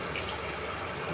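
Water steadily pours into a cooking pot of brinjal curry, a continuous close gushing fill with no talk over it.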